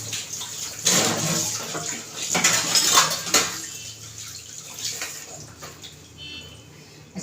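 Water runs steadily from a tap as hands are rinsed, mixed with light clinks of dishes and utensils, then the flow eases off.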